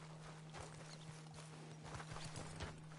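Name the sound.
horse in video game Red Dead Redemption 2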